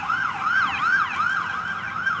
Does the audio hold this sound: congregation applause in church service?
no